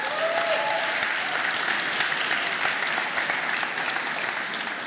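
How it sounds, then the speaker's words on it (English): A conference audience at a bar industry convention in Berlin applauds a head bartender being introduced, a dense, even burst of clapping lasting several seconds with a faint whoop early on. "Give him a round of applause."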